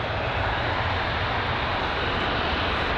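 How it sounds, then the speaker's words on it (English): Loud, steady roar of a United Boeing 767's jet engines just after touchdown, a dense continuous broadband rumble that fills the whole stretch with no talking over it. "So some very loud engines on board that United 767, which we had just seen touch down"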